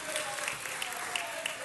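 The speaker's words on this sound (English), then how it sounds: "Let's give them a round of applause." A council chamber audience gives a round of applause, a steady wash of many hands clapping, moderately loud and continuous throughout with a faint murmur of voices underneath.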